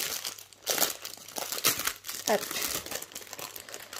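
Plastic packets of AB diamond painting drills crinkle and crackle as they are unwrapped, in bursts of close rustling with a brief spoken word.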